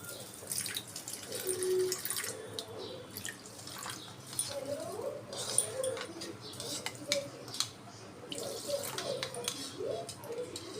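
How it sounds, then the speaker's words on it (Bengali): Water trickles and drips into a bowl of homemade ground fenugreek powder, faint and close with splashy irregular pours and a quiet background hum. "এবার এটার মধ্যে কিছুটা জল অ্যাড করব"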